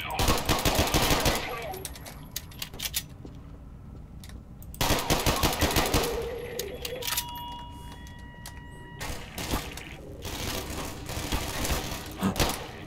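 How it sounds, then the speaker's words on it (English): Rifle fire in the Half-Life 2 mod Raising the Bar Redux, loud bursts of rapid shots with gaps between volleys, mixed with other game sounds and ambient effects. "That is a rifle."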